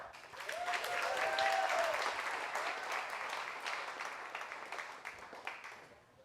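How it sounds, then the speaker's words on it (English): An audience at a real estate masterclass in Orlando applauds for Loretta, a full room of clapping swelling quickly, then slowly thinning out over several seconds, with a brief whoop early on. "let's give a giant round of applause to Loretta"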